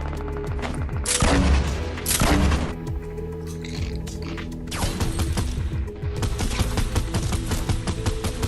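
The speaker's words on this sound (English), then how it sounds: "I'm launching grenades." Fortnite gameplay with grenade launcher fire and explosions: repeated bursts of loud blasts and gunfire-like cracks, with game mechanism clatter between them; no speech.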